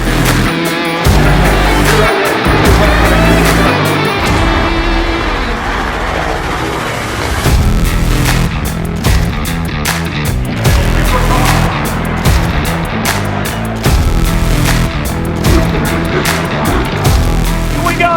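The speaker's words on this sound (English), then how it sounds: "Time to crank it up to the big bikes in Monster Energy AMA Supercross. 450 Heat 1." Monster Energy AMA Supercross 450 class motorcycles race a heat, their engines roaring loud and continuous with rising and falling revs as bikes pass close, a crowd and a faint announcer's voice underneath.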